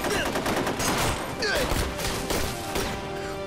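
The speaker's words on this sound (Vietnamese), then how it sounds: "Đừng bắn loạn." Rapid gunfire crackles in a battle scene from a Chinese war drama set during the anti-Japanese war, with dense overlapping shots and bursts filling the clip under shouted voices.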